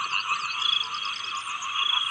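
A dense chorus of frogs croaks steadily in rice fields in front of a temple in Lampang, Thailand, on an early morning, a continuous high, rattling trill with no voices.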